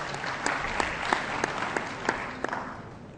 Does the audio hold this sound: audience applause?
yes